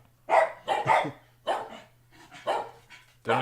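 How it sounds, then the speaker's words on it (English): Dogs barking in short bursts, several close yaps spaced across a few seconds over a steady low hum, with people talking around them. "They don't even bark at anything."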